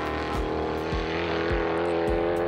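S5000 open-wheel race car with a crate V8 engine, revving hard and loud up close, with repeated sharp throttle blips and upshifts roughly every half second, no voices.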